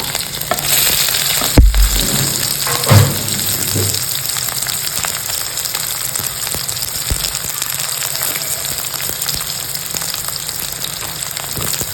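Cumin seeds crackle and sizzle in hot oil for a Marathi papad chutney, a steady close frying hiss with a couple of brief clanks from a pan or spoon early on.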